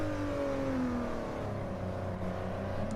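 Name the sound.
race car engines in a racing video game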